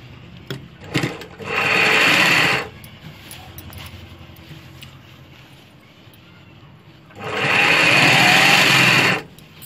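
Sewing machine stitching a dhoti shalwar, joining the belt onto the garment, in two loud sustained runs of about 1.5 and 2 seconds separated by a quieter pause with faint handling sounds.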